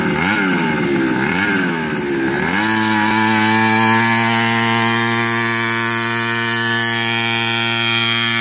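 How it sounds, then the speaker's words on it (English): A pocket bike engine revving loud and close, rising in pitch at first and then holding a high, steady buzzing whine. "Rev it, rev it."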